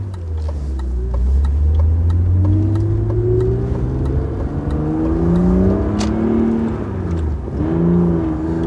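BMW E36 M3 engine revving steadily while driving, its pitch rising and falling through the gears in a loud, continuous drone, with a clutch that engages poorly; no talking.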